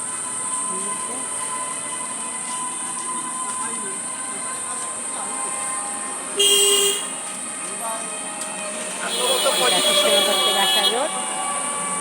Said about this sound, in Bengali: এই দেখো এটা নবদ্বীপের রাস্তা, দেখতে পেয়েছ?